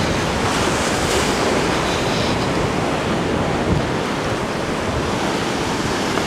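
Huge ocean waves crash on lava rocks along Hawaii's North Shore, a loud continuous roar of surf with heavy wind buffeting the microphone and no voices.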